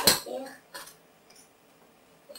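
A drinking glass is handled near a small child, with a single sharp clink at the start and faint small knocks after it.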